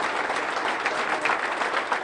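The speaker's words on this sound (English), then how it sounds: "a round of applause as he's released from the hospital" Sustained applause rings out as a police officer is released from the hospital, many hands clapping at once in a dense, steady burst that stays loud and close.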